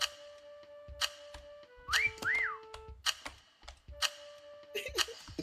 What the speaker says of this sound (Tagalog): Sipol!